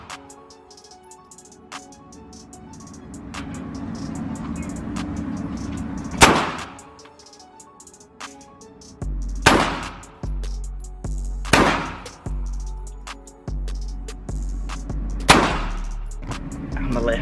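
Loud, sharp gunshots from a P80 Glock 26 pistol at a shooting range crack out one at a time, the first alone and then a steady string of four or five evenly spaced shots, with a low rumble and faint voices between them.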